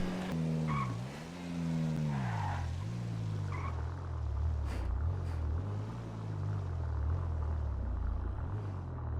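Car in GTA 5 driven recklessly, tires skidding and squealing in long wavering tones over a heavy engine rumble, loud and continuous with pitch swooping up and down as the car slides.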